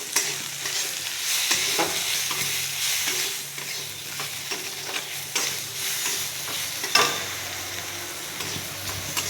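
Spices with turmeric powder sizzle in hot oil as they are stirred for a masoor dal with pumpkin greens. The frying hiss runs continuously, broken by repeated scraping strokes of the stirring, with no talk.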